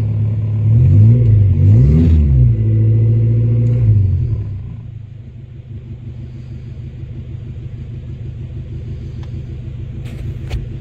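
A Renault 16 engine, restarted after 20 years unused, idles with a steady low rumble; the first few seconds carry a louder, revving hum before it settles into an even, smooth idle.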